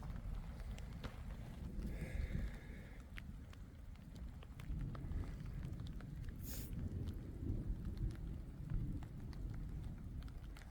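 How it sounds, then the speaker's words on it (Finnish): Thunder rumbles low and faint through a summer storm in the wilds of Lapland, a long rolling drone under light wind, with a brief tonal squeal and sharp hiss along the way. "Kovasti jyrisee"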